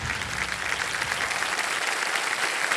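A studio audience on the quiz show Kaun Banega Crorepati applauds a contestant who has just won one lakh rupees, with a bright, dense round of clapping that stays even and sustained throughout.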